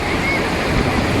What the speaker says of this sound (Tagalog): Napaka-relaxing, therapeutic yung tunog ng tubig.